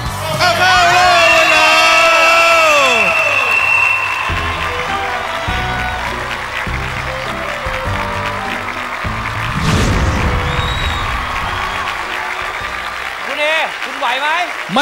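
A studio crowd cheers and whoops at a Thai game show, loud sustained shouting and applause layered with excited talk and rising, falling electronic sound effects.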